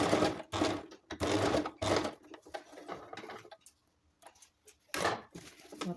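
A sewing machine double-stitches a shopping bag made from used clothing, running in loud, close bursts of rapid mechanical chatter separated by short pauses and a few quieter stretches.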